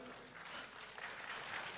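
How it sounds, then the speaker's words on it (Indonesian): Faint, distant applause from an audience at the Abraham Live in Banten event, welcoming the regent (Bupati). The clapping stays as a soft, even wash that holds steady throughout. "Iya, boleh berikan tepuk tangan."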